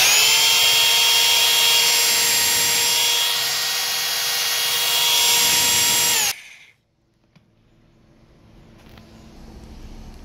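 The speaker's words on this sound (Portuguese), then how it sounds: "Botei na função furadeira, galera. Vocês vão ver que ela vai ficar só girando." A Bosch GBH 2-24D rotary hammer set to drill-only mode spins with a loud, steady whine for about six seconds, then winds down and cuts off, leaving a faint background hum.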